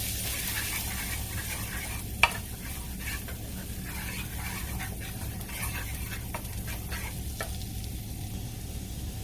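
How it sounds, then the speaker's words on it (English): Minced garlic sizzles in a hot pan while a spoon stirs it, a steady frying hiss broken by a few sharp scrapes and clicks, close and moderately loud. "Now I'm going to add some minced garlic to the pan, a tablespoon, and stir that in."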